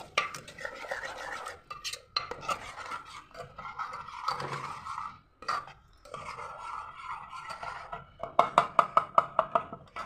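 Scraping and stirring of field bean vegetable curry in a metal pressure cooker pan, steady rubbing strokes, ending with a run of quick rhythmic taps of a spoon against the rim.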